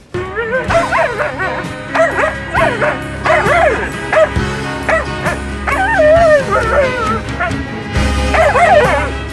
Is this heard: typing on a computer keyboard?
no